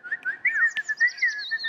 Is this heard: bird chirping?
yes